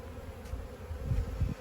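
Honey bees at an opened hive drone in a low, continuous buzz, fairly close, with a few soft bumps and swells in loudness.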